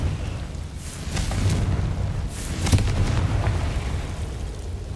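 The Confringo fire spell goes off in Hogwarts Legacy as a loud, rumbling explosive burst. Dense low booms swell and carry on for several seconds, with a sharper crack near the middle.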